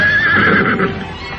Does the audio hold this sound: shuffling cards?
no